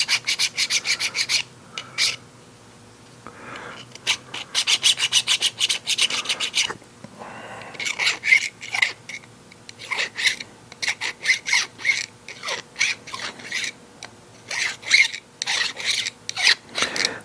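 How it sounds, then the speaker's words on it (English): A hand file deburring a radial engine cylinder head, close rasping strokes in quick bursts of repeated scrapes with short pauses between them. "I'm just gonna quick deburr this one a little bit."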